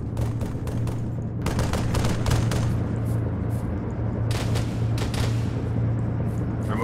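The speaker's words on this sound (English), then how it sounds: "Lay down some suppressing fire if you can." Sustained burst of suppressing gunfire in the ArmA 3 OPTRE military shooter game, dense overlapping automatic shots rattling continuously and loudly across the whole stretch with a steady low drone beneath.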